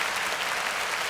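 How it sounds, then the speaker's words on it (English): A brief, dense round of applause from many hands, steady and fairly loud, with no pause. "We need a round of applause for that."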